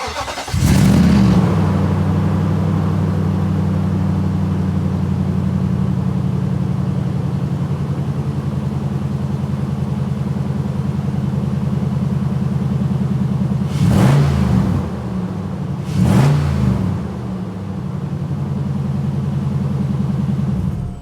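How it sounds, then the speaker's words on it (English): A Nissan Titan pickup engine with the factory stock intake cranks and starts, then idles steadily with a low rumble, broken by two quick revs near the end. "This is the stock intake from factory from Nissan. This is how it sounds."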